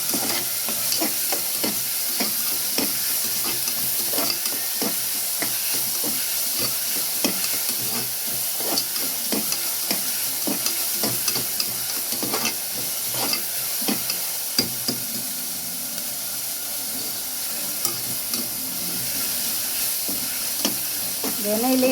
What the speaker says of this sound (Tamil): எண்ணெயிலே வெங்காயம் நல்லா வதங்கணும்.